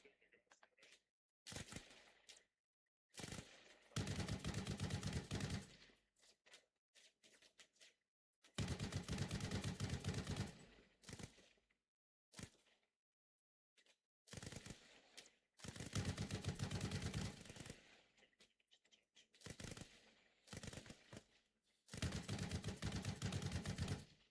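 Gunfire in the military shooter Arma Reforger: loud bursts of automatic fire and single shots in clustered volleys with short silent gaps, near and sharp, some bursts sustained for several seconds.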